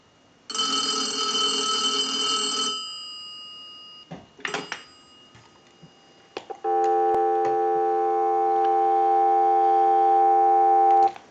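A Northern Electric 233QF payphone's ring cuts off, followed by a few clicks, then a steady dial tone hums on continuously, loud and near.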